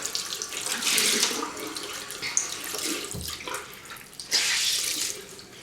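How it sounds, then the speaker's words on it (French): Hot water runs from a tap onto a washcloth in a bathroom sink, a steady hissing stream that swells and fades as the cloth moves under it, close and fairly loud. "je reprends mon fameux gant que je mets de l'eau chaude dessus pour que ça soit plus agréable comme toujours"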